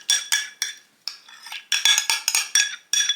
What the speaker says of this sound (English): trying to scrape out as much of the yogurt as we can